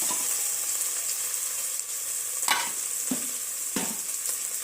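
A spiced mixture frying in a pan on a gas stove while being stirred, a steady close sizzle broken by several distinct scraping stirs spaced about a second apart, with no talk.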